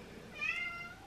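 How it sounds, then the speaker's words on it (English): A single indoor cat lets out one drawn-out meow, fairly faint and close, rising and fading over about half a second against quiet room noise. "I'm really sorry about my cat."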